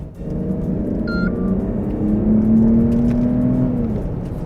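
A Mercedes-Benz GLE 450 SUV engine revs up and accelerates steadily in sport mode with manual shifting, a loud continuous rumble with rising pitch heard from inside the vehicle, no voices.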